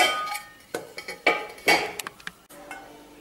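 A lid is set over a vessel of oiled puri dough, with several sharp metallic clanks and clinks in quick succession, close and fairly loud, ending in a faint tap.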